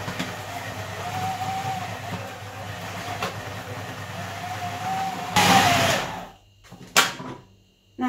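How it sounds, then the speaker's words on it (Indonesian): A blender grinds beef in batches for meatball filling, making a steady whirring drone with faint rising whines. It bursts louder near the end, then cuts out into short stop-start pulses. "Blender dulu dagingnya setengah-setengah."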